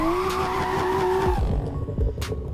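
A BMW M2 drifts in Assetto Corsa at a drift park, its engine holding a high steady whine before cutting off, followed by loud, sustained tire squeal and skidding, close and without talk.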